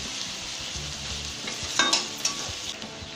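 Chopped onions with a little salt frying in a pan for a mustard-paste fish curry: a continuous soft sizzle with a few clinks and scrapes of a stirring spoon near the middle, nearby and quiet, with no speech.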